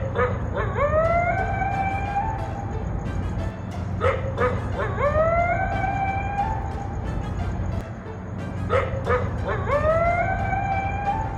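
Several dogs howl and yelp in repeated rising, wavering bursts, pausing between rounds, over a steady low background rumble.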